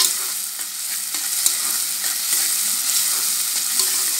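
Mustard seeds, cumin and curry leaves frying in hot oil for a Marathi drumstick and potato bhaji: a dense, steady sizzle with scattered crackles and pops, plus light stirring clinks, with no talking.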